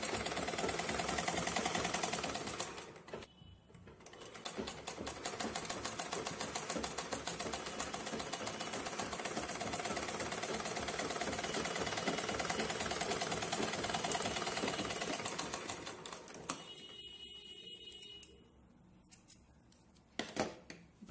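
A sewing machine stitches a puff sleeve, running in a long, fast, even mechanical chatter close by, then stopping and giving a few short clicks and bursts at the end.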